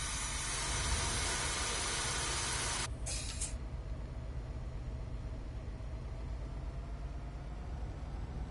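Train brakes in the Train Sim World 3 simulation on the Peninsula Corridor let out a loud, steady hiss of air that cuts off abruptly partway through, leaving a quieter rumbling run of the train underneath.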